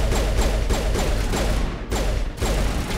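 Rapid gunfire from a shooter in the Mass Effect 1 video game, dense bursts of shots with thuds, loud and continuous apart from a brief lull near the middle.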